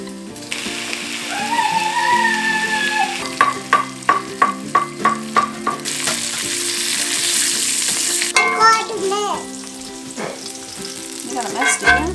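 Homemade bacon frying in a pan on a winter homestead, a loud crackling sizzle with bursts of spitting and a run of rhythmic clicking taps partway through.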